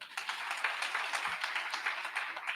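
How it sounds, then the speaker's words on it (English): Steady applause from an audience, dense overlapping claps at moderate volume throughout with no voices. "Please clap for her."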